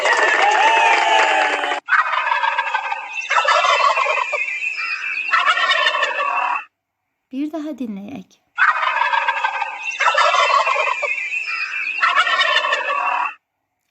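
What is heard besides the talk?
turkey gobbling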